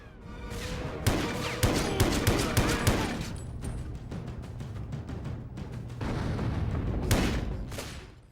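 Rapid gunfire and booming shots from the 2004 EA video game James Bond 007: Everything or Nothing, loud and close, with bursts of rattling shots and heavier impacts running steadily through the clip.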